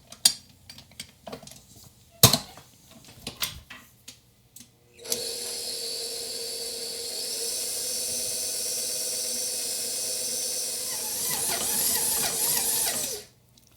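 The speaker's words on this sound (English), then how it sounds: "Just 60 seconds in this mixer and it is done." A stand mixer with a paddle beats gluten-free cheese bomb dough, starting with scattered clinks and knocks, then running as a steady motor whir that rises slightly in intensity before stopping abruptly.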